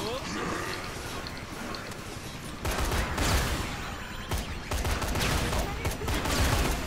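Rapid gunfire bursts in the zombie game Dead Rising 3, a dense fusillade that grows louder and busier partway through, layered with clattering game effects and shouts from other characters.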